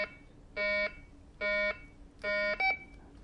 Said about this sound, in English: you will hear this alarm.